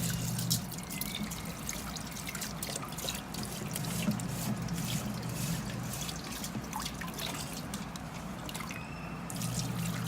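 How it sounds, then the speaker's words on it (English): Rice washed with water in a bowl, soft continuous trickling and dripping with light swishing, close and fairly quiet, no talk. "Now we're going to wash this rice only once, just to remove the white powder"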